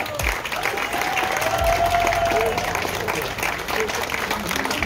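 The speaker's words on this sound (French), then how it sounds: "j'aimerais qu'on l'applaudisse, lui et son équipe, très fort" Crowd applause at an outdoor art event in Guadeloupe, steady clapping throughout with a voice audible over it and some tonal background sound.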